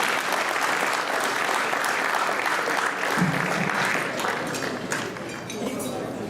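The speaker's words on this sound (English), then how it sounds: "We have another round of applause, please." Applause at an annual dinner after a sung performance: a sustained, even roar of many hands clapping from a large crowd, holding steady throughout with a slight softening near the end and murmured voices underneath.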